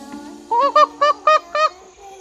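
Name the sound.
birds calling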